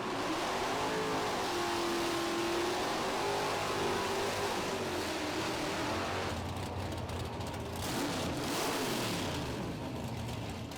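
A 1966 Chevrolet Biscayne and a 1965 Dodge Coronet race down a drag strip at a muscle car nationals event, engines roaring loud and continuous, with a rising revving sweep and the roar shifting as the cars pull away.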